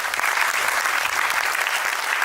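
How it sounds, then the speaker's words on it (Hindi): Steady, dense audience applause fills a theatre during a stage play, a continuous wash of many hands clapping close by with no voices on top. "जोरदार तालियां बजनी चाहिए इनके लिए।"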